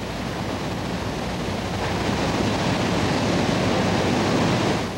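Floodwater pours over the Auburn cofferdam and spillway plug during its 1986 failure, a broad, steady roar of rushing water that swells slightly louder toward the end and stops abruptly.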